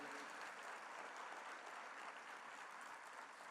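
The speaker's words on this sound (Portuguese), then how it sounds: "Você pode celebrar a Deus nesta noite, com as suas palmas para a glória do Senhor" Church congregation applauding in a dense, even wash of clapping that holds steady and fairly distant for the whole stretch, with no clear voices on top.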